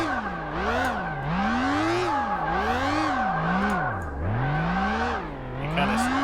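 Virtual car drifting in the driving simulator Yoshi's drift sim, with a steady engine note that rises and falls in repeated revving swells while tires squeal continuously through the slides, loud and without talk.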